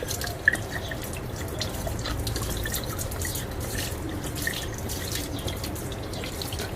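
Water glugging slowly out of a plastic bottle in a steady, continuous trickle with drip-like splashes, close and moderately loud, with no voices.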